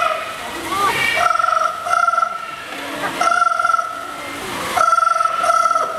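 At a bird park show, a parrot imitates a ringing telephone in repeated electronic trilling bursts, loud and close, separated by short gaps.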